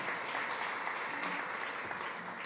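An audience at a food summit at SXSW gives a dense, continuous round of applause, steady and fairly close, with no speech over it.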